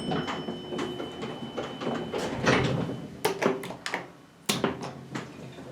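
Doors of a modernized 1939 Haughton AC traction elevator in a Harrisburg building, sliding and thudding with several sharp knocks and clunks, fairly close and loud.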